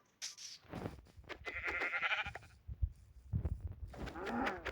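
Several sheep bleat close by in a video game, overlapping, drawn-out cries mixed with rustling and game background sounds.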